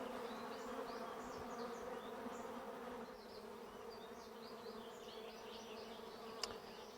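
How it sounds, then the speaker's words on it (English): A honeybee swarm buzzes densely around a hive entrance during a swarm catch, a steady close hum with individual bees zipping past and a brief knock near the end. "There's so many bees."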